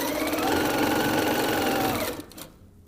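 A sewing machine stitches fabric for a picnic bag along a quarter-inch seam, running in a steady fast whir for about two seconds before stopping, close and alone.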